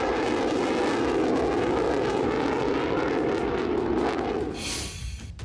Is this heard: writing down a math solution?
no